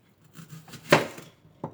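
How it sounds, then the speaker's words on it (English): An onion being cut with a knife on a board: a few soft taps build to one firm, close chop, followed by a lighter cut near the end, quiet and sparse with no talking. "so this is onion number 2 that we're gonna cut"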